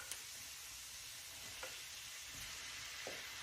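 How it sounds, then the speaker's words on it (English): Sausage and ground pork frying in a pan, a quiet constant sizzle with a few light scrapes of stirring, no one talking. "And then we're going to add all our meat."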